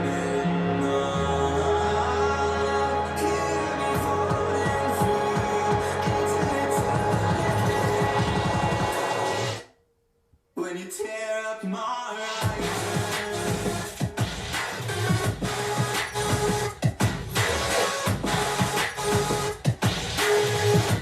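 Copyright-free music plays loudly through the built-in speakers of a JMGO N1S projector, a dense full-range track that cuts to near silence for about two seconds midway, then resumes steadily.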